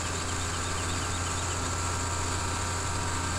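A big root sprayer vehicle's engine in Farming Simulator 17 drones steadily at idle, a constant loud mechanical hum with no breaks and no talk.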